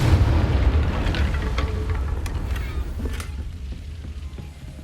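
A Confringo blasting spell goes off in Hogwarts Legacy, one loud booming explosion at the start that rumbles and fades away over several seconds with faint crackles.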